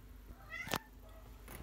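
A pet cat gives one short, close meow while being offered cat milk indoors, with soft rustles and a quiet background before and after.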